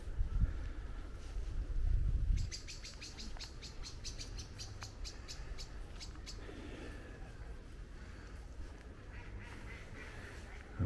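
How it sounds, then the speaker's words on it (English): Ducks quacking outdoors at a park pond, a run of rapid nasal calls heard at moderate distance over steady wind and ambient rumble, with faint bird chirps. "I can hear the ducks complaining."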